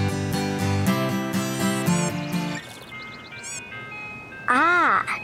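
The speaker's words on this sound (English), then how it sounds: "Do you hear the sounds of the ice cream truck?" A city ice cream truck plays its bright, repetitive jingle close by, the tinkling melody looping with a few warbling electronic tones near the end.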